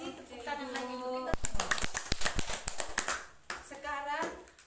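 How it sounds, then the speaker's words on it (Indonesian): An audience of women claps briefly, a burst of sharp, uneven hand claps lasting a couple of seconds between stretches of someone speaking into a microphone. "Tepuk tangan lagi Bu kita."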